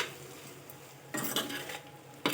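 Chicken curry frying in a pan, a low sizzle under two short bursts of a utensil scraping and clattering against the pan as it is stirred.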